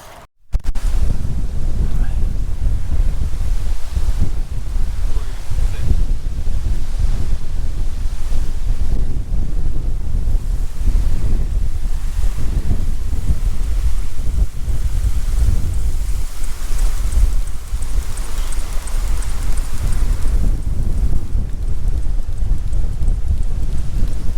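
Strong wind roars and buffets the microphone continuously on top of a peninsula at Sea Gull Lake, a loud, gusty rumble with no other sounds standing out.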